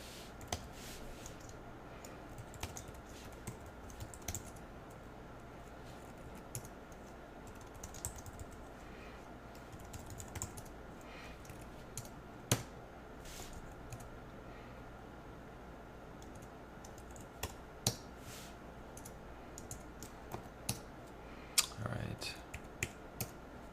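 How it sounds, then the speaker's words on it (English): Light typing on a computer keyboard, soft scattered key clicks with occasional sharper taps, close but quiet over a low steady background hum. "let's type anything we want in there"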